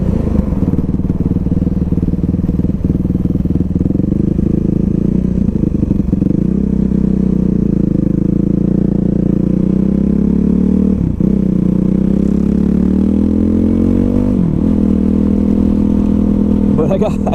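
A motorcycle, either a Kawasaki KLX300sm or Suzuki RMX450, is ridden on a test ride, its engine droning loud and steady throughout with shifts in pitch as it revs and eases off, wind rushing over it, and brief clattering dips.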